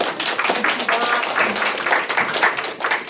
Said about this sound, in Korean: 우리 선생님 다시 한번 박수로서 우리 인사 한번 해드리시고요